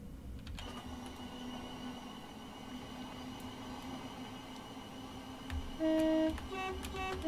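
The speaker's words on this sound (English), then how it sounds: "There's a little honk there." Short electric train horn honk in a Train Simulator game on a Southeastern network route, a brief loud two-tone toot near the end over a quiet cab hum.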